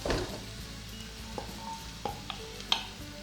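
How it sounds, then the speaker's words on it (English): Pumpkin and white carrot fry gently in a pan, a low sizzle under a few light clinks and scrapes of stirring, close and quiet with no talking. "let it fry for about 5 to 10 minutes"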